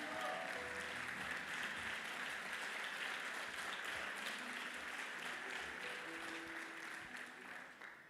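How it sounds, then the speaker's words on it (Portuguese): Church congregation in a service applauding, a steady wash of clapping held for several seconds at a moderate distance, then tapering slightly at the end. "Pode sentar, aplaudindo ao Senhor também."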